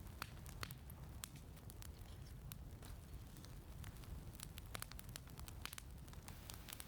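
A campfire burns at a cold lakeside canoe campsite in the Swedish wilderness, giving off soft, steady crackling with scattered sharp pops. The fire is faint and close, and no voices are heard.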